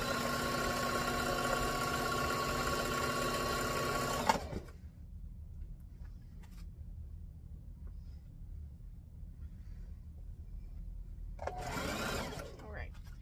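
A sewing machine stitches a jumbo pillowcase, humming loudly at close range for about four seconds, then stops; after a quiet pause it briefly runs again.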